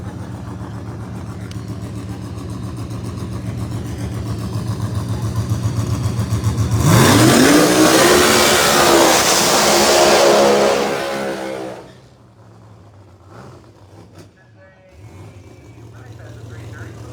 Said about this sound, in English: Tyler Hard Racing entry, the world's fastest reversing ProMod. Todd Moyer in the far lane